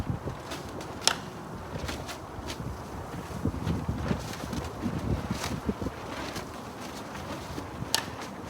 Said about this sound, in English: the wind's blowing straight in